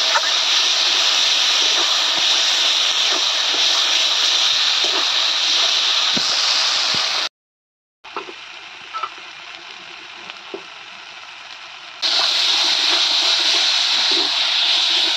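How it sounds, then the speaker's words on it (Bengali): Steady loud sizzle and hiss of water hitting frying masala in a pan while cooking Bengali rohu fish kaliya, continuous with a brief cut partway, no voices. "এবার আমি জল দিয়ে দেবো।"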